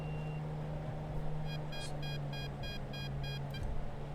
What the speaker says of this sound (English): I don't care about this alarm.